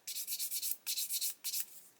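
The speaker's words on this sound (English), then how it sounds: "we're going to grab a sanding stick and just sand this flat" A sanding stick sands a plastic part from an Airfix 1/24 Bf109 G-5/G-6 model kit flat, giving close, crisp rubbing strokes in three quick rhythmic bursts with short pauses between them.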